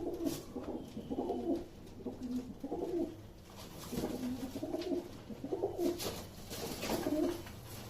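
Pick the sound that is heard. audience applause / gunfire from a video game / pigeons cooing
pigeons cooing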